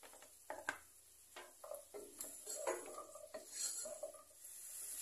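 Carrots and peppers sauté in a pan while a utensil stirs and scrapes them, giving irregular close clinks and scrapes over a faint sizzle.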